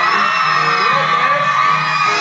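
A television dance show audience shouts, whoops and cheers together in a loud, dense, continuous roar of many voices.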